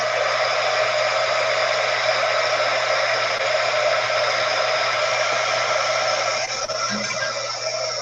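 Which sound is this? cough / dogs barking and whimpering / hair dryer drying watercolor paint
hair dryer drying watercolor paint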